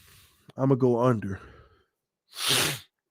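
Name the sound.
sniffles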